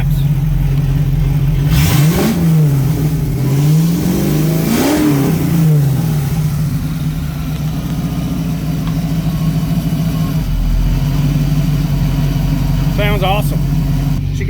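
A 1993 Ford Mustang Foxbody notchback engine idles loudly nearby, then revs in a few sharp blips that rise and fall before settling back to a rough idle; a voice speaks briefly near the end.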